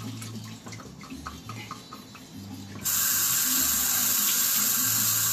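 Tap water runs into a kitchen sink to rinse canned olives, first a thinner trickle, then a loud steady gush that keeps pouring to the end.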